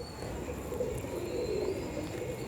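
Kamgar (Salare Kamgar) pigeons cooing softly in a loft, a continuous low murmur of overlapping coos with faint chirps above, steady and close, no talking.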